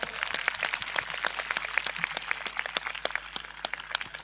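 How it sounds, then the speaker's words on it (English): Children clap steadily together at a school annual athletic meet and cultural presentation, a dense, continuous patter of many small hands with sharp individual claps standing out, fairly even in loudness throughout. "Children, clap louder."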